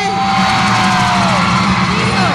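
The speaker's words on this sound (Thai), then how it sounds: "ขอเสียงกรี๊ดแบบนี้ไป" An audience at a regional contest broadcast in Thailand lets out loud, sustained high-pitched screams and whoops in unison, close and filling the whole moment.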